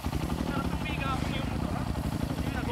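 A 250cc motorcycle engine climbs a steep uphill in low gear, droning steadily and close while people talk over it.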